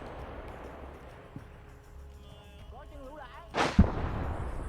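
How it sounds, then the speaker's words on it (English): A tank cannon fires in a combat video game set during a Hue City rescue operation: one sharp, loud blast with a brief rumbling tail near the end, over steady battlefield ambience and faint whistling tones. "Did the tank just randomly fire?"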